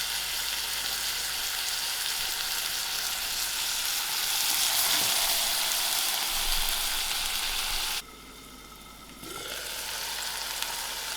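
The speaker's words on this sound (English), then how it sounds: "I have my Gadra frying for about 2 minutes" Gadra (borlotti) beans fry steadily in a pot, giving a loud, continuous sizzle that drops suddenly for about a second near the end, then resumes at a slightly lower level.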